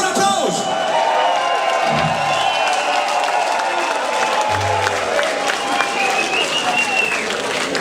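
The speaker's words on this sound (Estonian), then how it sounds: "Tehke endale üks suur aplaus!" A rock festival audience at Sindi Rock breaks into loud, sustained applause and cheering that fills the whole stretch evenly, with scattered voices and whoops mixed into the crowd noise.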